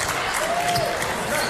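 A basketball game crowd applauds a halftime drawing winner, a steady, dense wash of clapping filling the arena, with a faint whistle-like tone briefly rising over it.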